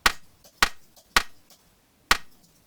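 Synthesized clap sample from a grain delay in Synplant, resampled to mono: four sharp, dry clap hits with short decaying tails, irregularly spaced, alone.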